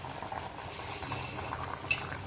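Roasted vermicelli being stirred into boiling water for semiya kichadi, a steady wet scraping and bubbling close up, with a brief sharp clink of a utensil near the end and no talking.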